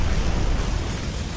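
A sound-effect explosion in a fantasy audio story: a loud, sustained roaring blast with rumbling low end and hissing noise that holds steady throughout, with no voice over it.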